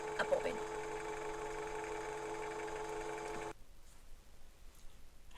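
A sewing machine winding a bobbin while running off a portable power bag inside a van, a steady mechanical whir with a faint hum that runs for about three and a half seconds and then stops, leaving quiet room noise.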